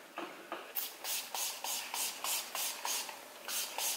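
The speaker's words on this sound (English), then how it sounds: "I'm going to set my face with the Urban Decay All Nighter Setting Spray." Rapid series of short bursts of Urban Decay All Nighter setting spray, about a dozen hissing pumps in a steady rhythm, close and fairly quiet.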